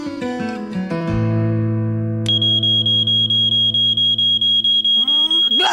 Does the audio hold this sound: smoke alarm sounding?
yes